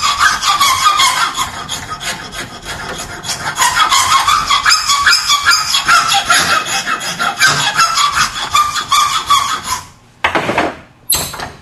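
A rasp shapes a wooden hammer handle in steady, rhythmic strokes, a close, loud scraping and squeaking that runs without pause and stops briefly near the end.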